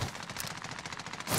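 Rapid video game gunfire plays as a steady, fast stream of shots throughout a short burst at moderate loudness.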